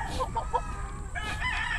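Large gamecock crowing and calling amid other fowl, a close series of short harsh crowing cries over steady background noise.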